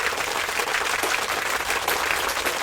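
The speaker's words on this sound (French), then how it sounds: "Donc, on les applaudit." Steady applause from a live audience for challenge participants, dense clapping filling the whole stretch at even loudness with no voices on top.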